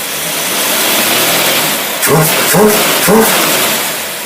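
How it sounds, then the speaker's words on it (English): A Dodge engine with a Thermoquad carburetor revs hard, rising into a loud roar in three quick surges as the throttle is pumped and the vacuum secondaries open, with a steady hum beneath. "That tells you that loud roaring noise is the vacuum secondaries internally releasing"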